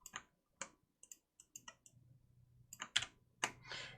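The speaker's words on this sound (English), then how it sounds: "Too much typing." Sparse clicks of typing on a computer keyboard, heard as irregular bursts of close keystrokes with pauses between them, a low steady hum underneath.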